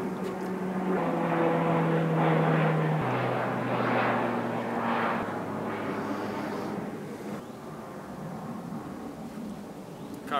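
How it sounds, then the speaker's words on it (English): A propeller airplane drones steadily overhead, its engine hum loud at first and slowly fading as it passes. "Holding for a sound guy. Airplane."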